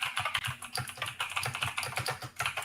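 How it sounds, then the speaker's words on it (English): A typewriter-style antique keyboard clatters in a fast, continuous run of crisp, closely spaced keystrokes, loud and near with no voices over it. "call it his antique typewriter keyboard"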